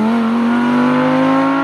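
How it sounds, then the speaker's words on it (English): An Audi R8 V10 Plus accelerates hard, its engine producing a loud, close, sustained harmonic roar that climbs slightly in pitch over a short burst, with no talking. "that was some of the sharpest acceleration I've ever felt"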